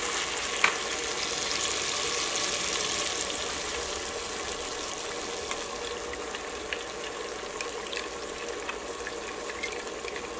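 A thick banana halwa mixture made from Robusta bananas sizzles steadily in a pan as it is stirred continuously, a constant frying hiss with soft scraping ticks and no talking.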